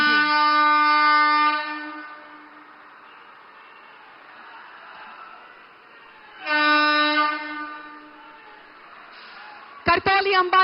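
A train on its inaugural run, on the Kartauli–Ambala rail service, sounds two long loud horn blasts a few seconds apart, with quieter rumbling between them and a brief burst of other noise at the end.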